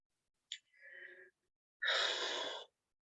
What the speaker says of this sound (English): we just take a big breath out